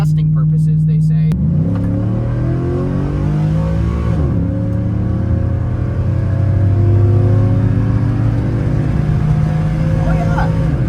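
A truck with a cammed engine revs up and pulls hard, its deep rumbling exhaust rising in pitch through the gears, loud and close from inside, with someone talking over it.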